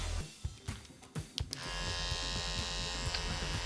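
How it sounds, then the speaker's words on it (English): A Centri MP5 Tactical coil tattoo machine: a few clicks and taps first, then it starts up into a loud, steady, close electric buzz that holds to the end, with no talking. "Super weird using a coil machine again"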